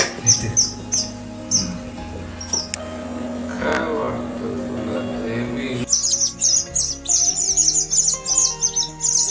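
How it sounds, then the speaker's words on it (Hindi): Shrill, rapid chirping of hungry weaver bird chicks calling insistently, bursts of high tweets at the start and a dense, loud chorus toward the end. "भूख से व्याकुल चूजे जोर जोर से आवाज कर रहे थे"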